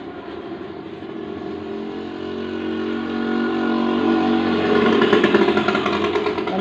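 A 1991 Eicher 241 tractor engine runs nearby with a steady low chugging idle that gradually grows louder and rougher toward the end, with no talk over it.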